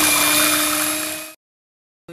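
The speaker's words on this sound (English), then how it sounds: "use my mixer" An electric mixer blends custard for Lao sweet rice with mango, a loud, steady high whine for about a second and a half before it cuts off abruptly and goes silent.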